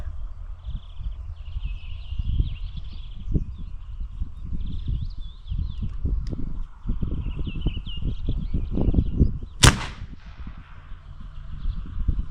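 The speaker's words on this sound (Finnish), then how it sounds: "Ja sitten ammutaan ilman äänenvaimenninta." A single sharp, loud gunshot crack from a Hatsan BT65 SB PCP air rifle fired without a silencer rings out near the end, over rustling and handling noises outdoors.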